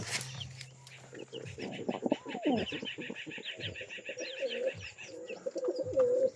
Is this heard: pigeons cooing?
yes